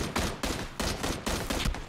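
Bursts of rapid gunfire in PUBG, loud close repeated volleys with short gaps between them, about five clusters in quick succession.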